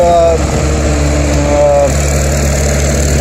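A tractor engine drones steadily nearby with a deep, constant rumble, while a person talks over it.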